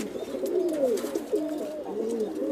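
Chila pigeons coo close by in soft, rolling, repeated phrases, several overlapping calls running continuously with no talk over them.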